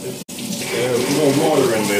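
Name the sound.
pouring water from tap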